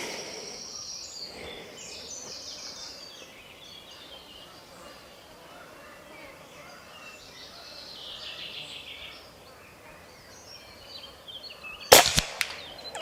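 A single sharp shot from an Aselkon MX6 6.35 airgun fitted with a 3D-printed moderator, fired at a 60-metre target outdoors, a brief crack late in the clip over quiet ambience with faint birdsong.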